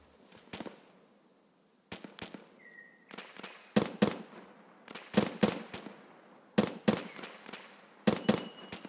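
Grenades going off in a video game, a quick series of sharp, crackling bursts that come in irregular clusters and grow louder toward the end.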